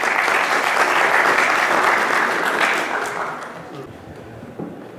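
An audience at a lecture on knowledge and science applauds to welcome a professor, dense clapping that holds steady, then thins and fades toward the end.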